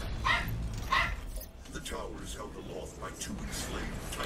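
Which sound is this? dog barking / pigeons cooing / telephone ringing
dog barking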